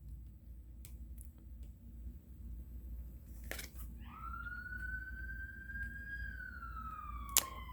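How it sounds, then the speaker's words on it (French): A fire engine or ambulance siren rises midway as a faint, gliding wail over a steady low hum, sounding distant, with a sharp click near the end. "Je ne sais pas si vous entendez, c'est les pompiers ou l'ambulance."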